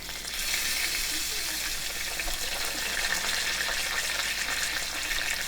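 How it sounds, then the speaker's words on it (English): Steak sizzling and frying in a hot pan, a steady, loud hiss filling the whole stretch without pause, with no talking over it. "I'm going to cook this just a little bit more on this side."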